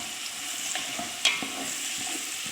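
Sliced onions sizzle and fry in a pan while being stirred, a steady quiet crackle broken by a single clink of the utensil midway, with no voices.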